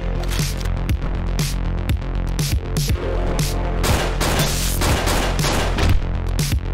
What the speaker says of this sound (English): There's a gun with bullets.